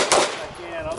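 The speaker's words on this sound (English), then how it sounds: "From the holster, one shot on one target." A single pistol shot fired on a drill from the holster at one target, one sharp crack near the start that rings out and decays over the remaining second.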